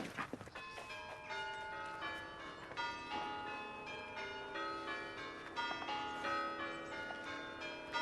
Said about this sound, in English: Ringing the church bells, let the world know.